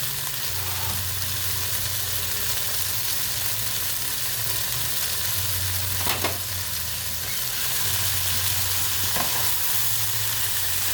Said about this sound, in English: now I'm going to add my chopped bacon